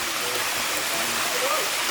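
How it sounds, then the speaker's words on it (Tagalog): A stream flows at a provincial resort bathing spot, a steady broad rush of water, close and continuous, with voices faintly underneath. "Ito na ang aming liliguan na batis."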